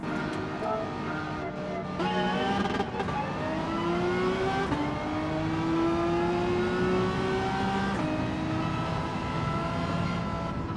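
A Renault Megane race car in Gran Turismo 7 at Brands Hatch drones steadily and loudly throughout, its engine pitch climbing and falling through gear changes with faint background sound and no voices.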